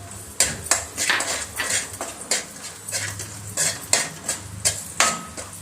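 Cashews fry in Sri Krishna ghee with raisins added after, a low sizzle under frequent clattering scrapes and taps of a ladle stirring in a metal pan, close and fairly loud.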